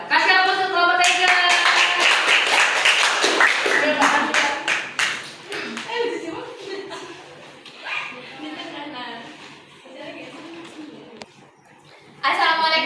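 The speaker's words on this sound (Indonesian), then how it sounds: "Kasih aplaus untuk kelompok Tiger" A group of people applaud group Tiger in a classroom session, with dense, close clapping for several seconds that thins out, then talking and a brief final burst.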